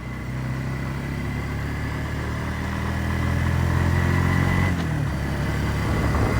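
Engine of a 2001 Yamaha BearTracker 250 ATV runs steadily with a low droning hum, its pitch shifting slightly partway through as gears change, then settling; no one talks.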